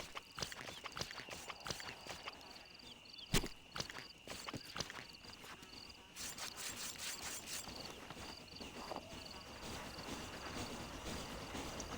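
A horse walks in Red Dead Redemption 2, its hooves clip-clopping in a steady rhythm of soft knocks, with a constant chorus of crickets and insects behind it and no talking.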